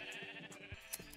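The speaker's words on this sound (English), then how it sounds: "Look at that sheep." A sheep in Minecraft gives a few short bleats, quiet and clear with no talk over them.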